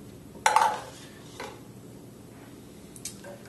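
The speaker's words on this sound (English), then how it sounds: "Stir it up a little bit." Bubble solution with a few drops of highlighter ink is stirred in a container, producing one clear clink and scrape, then a couple of fainter taps over a steady low room hum, with no talking.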